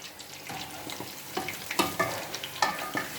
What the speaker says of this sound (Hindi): इसी तरह हमने बाकी भी मछली फ्राई कर लेनी है।